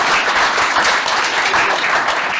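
Loud, sustained applause from a conference audience at a developer talk on IoT, with dense, even clapping and no voices on top.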